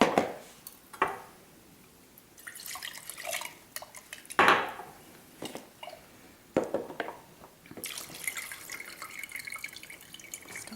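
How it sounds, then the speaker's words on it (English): Water splashing and sloshing inside a jar as sand is rinsed out, with bursts of pouring, drips and clinks of glass coming in separate close, quiet episodes between short pauses. "So we're going to try to rinse that out."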